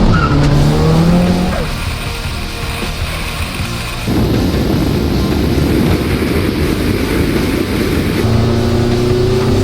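A Nissan S14 Silvia is driven hard with sustained engine drone and bursts of tire squeal, loud and close, fading mid-pass before the engine tone rises again near the end.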